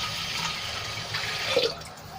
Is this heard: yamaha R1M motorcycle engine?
no